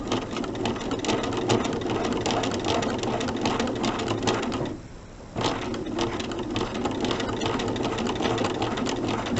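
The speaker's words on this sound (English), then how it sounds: "now I'm just going to sew down this diagonal line to join these strips" A sewing machine with a walking foot stitches fabric strips together, a fast, loud, steady mechanical chatter that pauses briefly midway and then resumes at the same pace.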